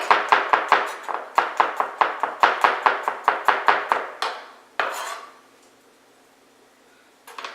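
Garlic sliced on a mandolin in a home kitchen: a quick, even run of about fifteen sharp clacking strokes, close and distinct, then one longer scrape before the sound fades to near silence.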